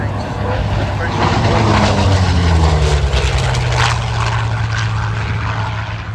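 A Hawker Sea Fury propeller fighter flying at the Barrington airshow in 2024, smoke system on and carrying drop tanks: a loud, steady propeller drone whose pitch sweeps downward as it passes, with an announcer talking over it.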